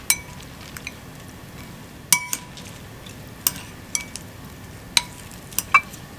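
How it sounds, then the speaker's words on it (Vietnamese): A bowl of bún mắm nêm noodles is being tossed and mixed, with irregular clinks of utensils against the bowl and soft wet stirring in between, close up and quiet otherwise. "Các bạn nghe tiếng trộn các bạn mới biết là nó làm món ngon rồi."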